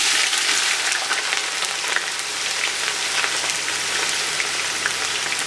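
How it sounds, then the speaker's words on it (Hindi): Finely sliced onions sizzle loudly in hot oil in a karahi for chicken jalfrezi, a dense, constant, close crackle with no pauses. "तेल हो चुका है यहाँ पर गरम। इसमें आप डालेंगे फाइनली स्लाइस्ड अनियंस"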